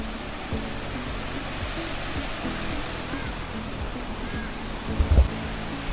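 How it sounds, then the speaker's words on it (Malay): A river flows below a campsite deck among banana trees, giving a loud, steady broadband rush of water that fills the whole stretch, with a brief low thump near the end. "Bawah ni korang boleh tengok sungai"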